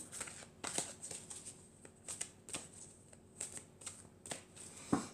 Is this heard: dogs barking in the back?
no